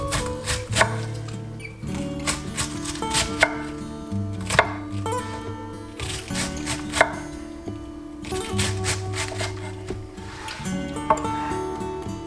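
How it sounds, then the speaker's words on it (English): A knife slices fresh chicken liver on a cutting board, making a steady series of crisp, close cuts and soft knocks in an irregular rhythm, with no talking. "So now I got two fresh pieces here, so I think we'll just slice a few slices here."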